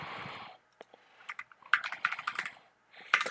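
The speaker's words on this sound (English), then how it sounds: "So let's go ahead and type Airflow." A command typed on a computer keyboard while setting up Apache Airflow on an Ubuntu server: a quick run of close key clicks in short clusters with brief pauses, no voice.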